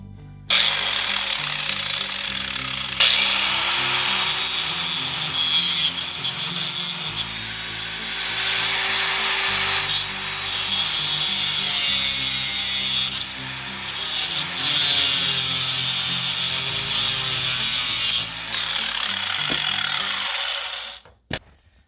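An angle grinder cuts through a stripped bolt on a new stove's bracket, a loud, harsh continuous metal grinding that pauses briefly several times and then stops abruptly near the end.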